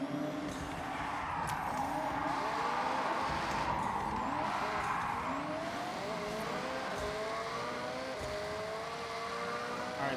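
A car in the racing game Forza Horizon 6 drives with a steady engine drone, shifting revs and repeated tire squeals through turns, loud and continuous.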